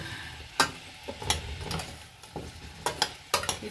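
Food swirled in a cooking pan, giving a low sizzle broken by several short scraping and clattering strokes at an uneven pace, close up and fairly quiet.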